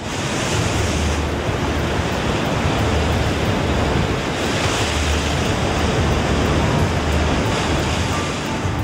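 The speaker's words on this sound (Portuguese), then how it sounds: "Ondas violentas bombardeiam a fortaleza de rochas dos lobos marinhos" Violent ocean waves pound a rocky fur seal colony, a continuous loud roar of surf with surging crashes and wind noise throughout.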